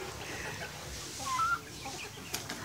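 Soft clucking from chickens amid a busy, noisy background, with a brief sharper bird call near the middle and a click near the end.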